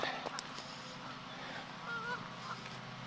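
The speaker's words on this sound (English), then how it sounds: "Too many geese though." Canada geese honk faintly in the distance over a steady outdoor hum, a few scattered calls across a few seconds.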